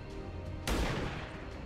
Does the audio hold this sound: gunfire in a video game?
yes